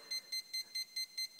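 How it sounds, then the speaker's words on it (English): A Turnigy 12A ESC on a quadcopter build emits a constant beeping pattern: seven evenly spaced, high electronic beeps at a quick steady rhythm, clean and close with no talk. "you can hear the constant beeping."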